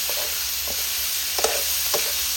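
Food stir-fried in a hot pan while cooking Thai dishes with pork belly, mushrooms and sweet peas, a loud steady sizzle with a few sharp scrapes and clacks of the spatula against the pan.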